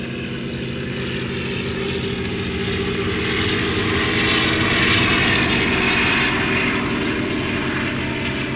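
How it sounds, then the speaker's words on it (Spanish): Helicopters flying over ski slopes in the Pyrenees make a steady, loud engine drone with rotor rumble that holds for several seconds. "helicópteros sobrevolando el cielo y que dan servicio a las pistas de esquí"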